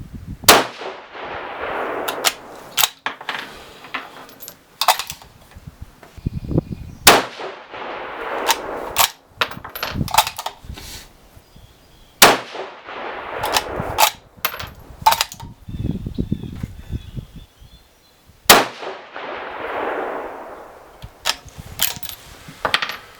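A 6GT rifle firing 108-grain Berger bullets at a 200-yard range cracks out in sharp, loud reports, spread across the stretch with quiet gaps and small metallic clinks and handling noises between them.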